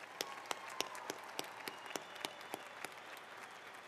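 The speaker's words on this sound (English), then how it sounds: "Let's give our faculty one more round of applause." Applause for faculty at a University of Idaho spring commencement ceremony, a sparse crowd clapping with distinct individual claps standing out, moderately distant and steady over four seconds.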